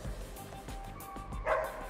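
A dog at a para-agility training session gives short barks and yips, with a louder burst near the end, over faint background voices.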